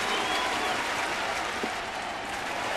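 A baseball stadium crowd of 45,000 plus cheers and applauds continuously, a dense, steady roar of clapping and voices filling the ballpark.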